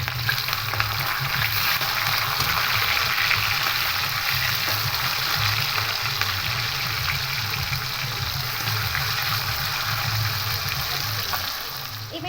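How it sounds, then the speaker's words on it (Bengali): Pieces of catla fish fry lightly in hot oil, giving a steady, close sizzle that holds at an even, fairly loud level throughout with no talk over it. "এবার খুব হালকা করে মাছটাকে ভেজে নেব"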